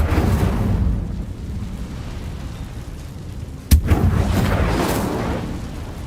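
Incendio fire spell cast in Hogwarts Legacy on PC: a sharp, loud burst near the end of a rumbling, roaring low background, followed by a flaring whoosh of fire that fades out.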